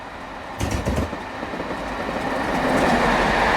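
A train hauled by Class 31 diesel locomotives rolls past with a steady rumbling roar and some rhythmic clatter early on, growing louder as it nears, with no voices.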